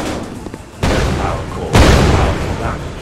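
A power core explodes in a multiplayer shooter video game: two loud, booming blasts about a second apart ring out over a constant rumble of game noise.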